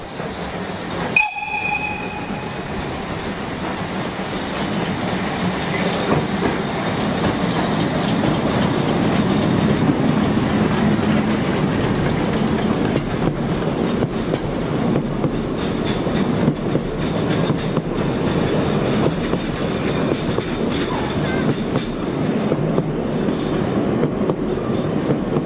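A freight train passes on the Preßnitztal railway: a short whistle at the start, then a steady, close rumble and rattle of wagons rolling by for the rest of the clip, with no talk.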